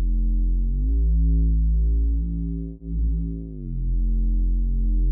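A low synthesizer sine-wave tone with stacked harmonics that swells and sways, its phasing sweeping through the sound, with a brief dip in the middle.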